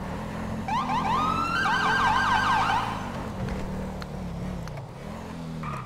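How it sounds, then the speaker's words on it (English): A police car siren in the video game GTA V wails loudly and up close, its sweeping yelp tones cycling rapidly for a few seconds before easing into lower engine and street noise. "I love my siren, it's so amazing."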